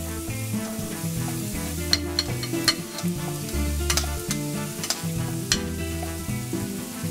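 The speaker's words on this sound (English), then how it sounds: "We're going to just place our shrimp on top of that grill." Marinated shrimp sizzle on an oiled grill, a steady crackling hiss with scattered sharp pops, heard under prominent background music.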